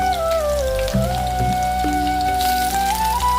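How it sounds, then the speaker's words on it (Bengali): Onions frying in hot oil with whole garam masala for a mutton curry, giving a steady, close crackling sizzle like light rain that runs without pause, with a sustained tone and faint clinks over it. "তারপরে পেঁয়াজ ভেজে নেব।"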